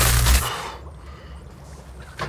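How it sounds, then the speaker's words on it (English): A spider bomb activated on a Hearthstone mech minion gives a loud burst of blast-like noise at the start, which quickly fades into quiet low rumble, then a brief sharp hit near the end. "Let's find out what happens when we activate the spider bomb."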